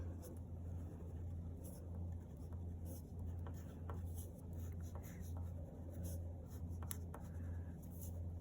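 Marker strokes scratch across paper in short, irregular bursts while colorful stacked animal drawings are made, over a steady low hum.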